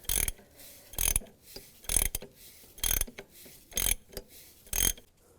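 Ratcheting clicks from a tool tightening a bolt to press the crank pulley onto the crankshaft of a 2002-2009 Chevy Trailblazer during a timing chain job, in about six loud, evenly spaced bursts with quieter clicks between, close up and without talk.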